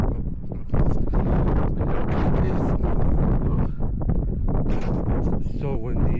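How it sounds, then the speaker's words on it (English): Heavy wind buffeting the microphone at a campsite in Big Bend National Park, Texas, a loud continuous rumbling roar with gusty surges throughout, with faint voices partly buried beneath it. "It's so windy"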